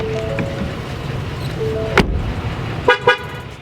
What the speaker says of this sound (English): When you walk away from the truck with the key fob in your pocket, it does this crazy annoying double honk thing